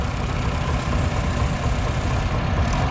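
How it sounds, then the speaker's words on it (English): A 1941 Farmall Model B tractor rolls by in a threshing-show parade, its engine a steady, loud, low rumble that holds evenly throughout without a break. "Next up, we've got a Farmall 1941 Model B."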